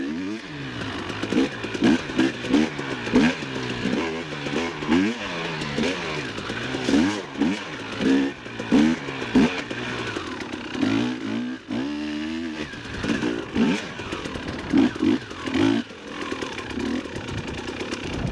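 A 350 dirt bike engine revs again and again, its buzzing note climbing and falling in quick, uneven bursts on a ride.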